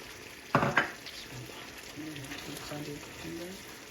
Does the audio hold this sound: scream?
no